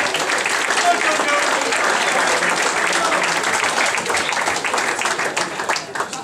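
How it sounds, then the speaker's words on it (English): A room of guests at a Larne FC football club awards night claps steadily in warm, sustained applause that thins out toward the end. "We give them a round of applause just to welcome them on the night."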